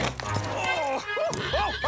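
A cartoon horse whinnies and snorts close by, with voices talking over it and a low background hum.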